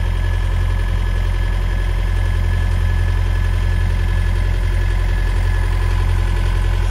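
A sailboat's inboard engine runs steadily at an even idle-like throb while motoring toward San Jose del Cabo, a continuous low rumble with mechanical rattle, loud and close, no talk.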